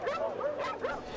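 Labradors at a puppy mill, heard as several overlapping yips and whimpering barks packed close together in a continuous, moderately loud chorus of kennel dogs.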